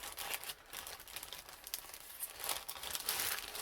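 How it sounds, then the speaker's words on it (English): Paper crinkles and rustles steadily while a Christmas Flower Fairies journal is being crafted, close and continuous handling with sharper crackles throughout and no voice over it. "sorry for the rustling"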